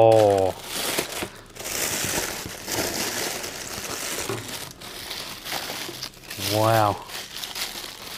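Green product packaging from a subscription box crinkles and rustles in bursts through most of the stretch, close and fairly loud, while a person speaks briefly.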